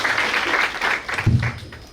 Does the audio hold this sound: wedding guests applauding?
yes